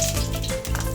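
Cooking oil crackles and hisses in a hot pan before fish is fried, a close, steady sizzle with faint clatter.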